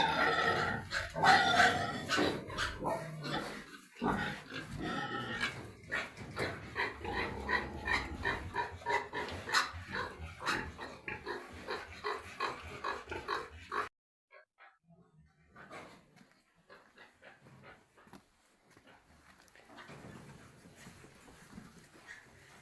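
Pigs grunt and snuffle continuously at close range for several seconds, then the noise drops to quieter, scattered grunts and rustling.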